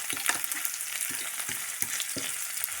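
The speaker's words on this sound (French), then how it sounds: "On remue, pomme de terre, piment, oignon, ail." Potato, chili, onion and garlic fry in olive oil with a bright, steady sizzle, broken by a run of soft rhythmic scrapes and thumps from stirring in the pan.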